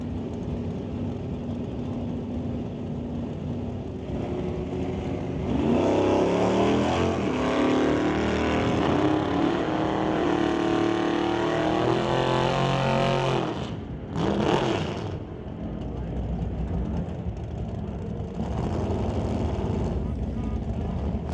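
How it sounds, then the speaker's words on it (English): A Ford Mustang and an Oldsmobile Cutlass drag race at a strip, engines roaring up loudly and pulling away, then quieter rumbling under a commentator's voice. "Brings up Brandon Piskasek in the Motoring Canada Mustang to race Craig Johnson in the Oldsmobile Cutlass."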